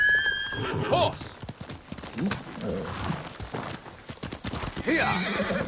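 A horse in the game Ghost of Tsushima whinnies and its hooves clop on the ground in a quick irregular rhythm, close and clear, with a brief voice and game sounds around it.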